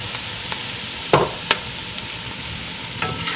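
A spoon stirs soup with pepper added in a pot of cooking vegetables, giving a few soft scraping knocks over a steady background hiss.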